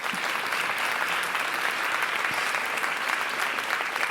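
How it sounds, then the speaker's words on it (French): A conference audience applauds in a large hall as a union leader is welcomed on stage, with dense, even clapping sustained throughout. "On peut l'applaudir."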